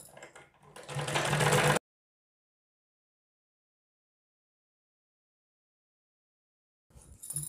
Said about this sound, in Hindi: दोनों पैर की मोहरी पर ऐसे ही सिलाई लगा देंगे